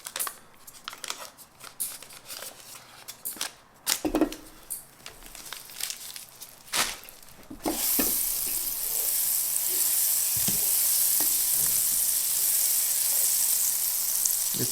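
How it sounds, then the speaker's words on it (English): Butter drops into an already hot pan for a keto chicken curry. Crinkly wrapper rustles and scattered handling clatter come first, then a steady loud hiss of melting, sizzling butter takes over and holds. "We're going to throw some butter in here."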